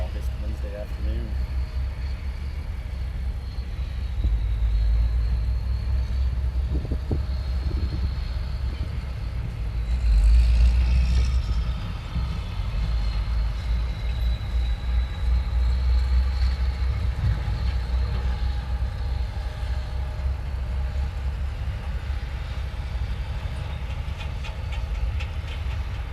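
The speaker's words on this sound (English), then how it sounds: "A lot of construction traffic out here" Heavy construction traffic rumbles past an airport viewing area on a warm afternoon, a continuous low engine drone that swells around the middle as a vehicle passes close, with faint higher whines from aircraft in the distance.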